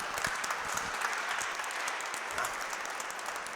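An audience applauds after a lecture introduction at a religious anniversary event, a continuous quiet wash of many hands clapping at a distance, even in level throughout.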